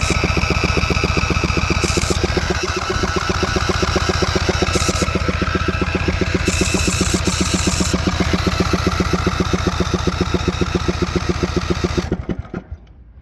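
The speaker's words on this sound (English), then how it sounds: "Keeps cranking the engine." A Cub Cadet mower engine that won't fire cranks over continuously in a loud, rapid, steady chugging rhythm for about twelve seconds, then slows and stops.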